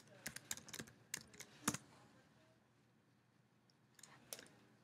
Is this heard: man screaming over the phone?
no